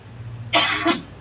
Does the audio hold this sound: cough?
yes